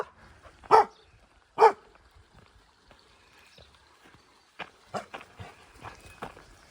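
Several dogs bark outdoors along a mountain walking route, with two loud close barks early and then a run of quicker, fainter barks further off.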